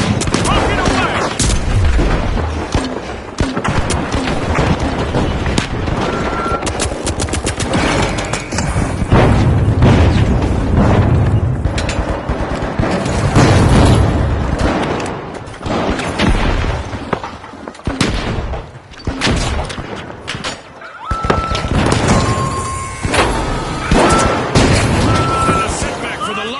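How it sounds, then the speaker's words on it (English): A rocket launches and explosions erupt in the video game The Finals: repeated heavy booms and gunfire-like bursts fill the scene, loud and dense throughout, with a commentator talking over the action. "Rocket away!"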